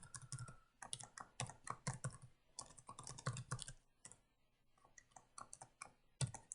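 Rapid bursts of typing on a computer keyboard while writing JavaScript code, close and fairly quiet, with short pauses between flurries of keystrokes and no talking.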